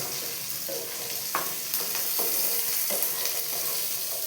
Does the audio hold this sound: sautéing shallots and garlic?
yes